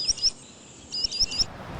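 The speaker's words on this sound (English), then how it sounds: "Right now we're hearing a bird here. It's a spotted sandpiper." A spotted sandpiper calls outdoors in bursts of high, thin whistled notes, a quick pair followed by a short pause and then three more, clear and fairly close against a quiet background.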